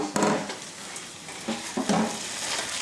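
Tofu being mixed in a bowl so it is coated in sauce, giving a few close scraping, squelching stirs in short bursts, with no talking.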